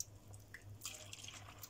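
Pickle brine for cucumber pickles is ladled into a jug, giving faint, brief splashes and drips against quiet room tone.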